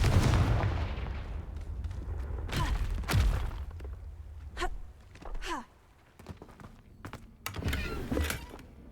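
Confringo fire spell blasts in the Hogwarts Legacy video game, several loud booming impacts with a heavy low-end thump near the start, then scattered sharper bursts and crackles at varying distance.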